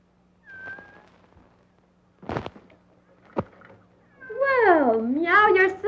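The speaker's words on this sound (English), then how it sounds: "Well, meow yourself." A cat gives a short meow, then after a couple of sharp thumps lets out a longer, wavering, drawn-out yowl up close, in an otherwise quiet room.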